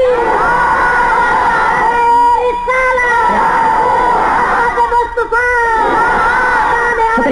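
A large crowd at a religious gathering loudly chants and yells the slogan Naara-e-Takbeer in unison, sustained massed voices rising and falling with a brief dip midway.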